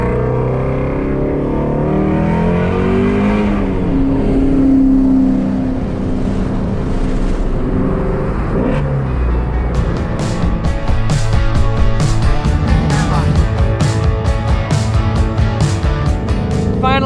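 Ford Shelby cars in a rally drive along a California freeway, with a steady loud engine drone and road roar heard from inside, the engine note rising into harder revving partway through.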